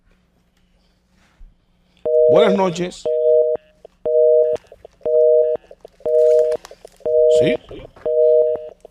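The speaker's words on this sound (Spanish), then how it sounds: "Se cayó esa llamadita" A telephone busy signal follows a dropped call, its short beeps repeating at an even, steady rhythm after a brief exchange of voices.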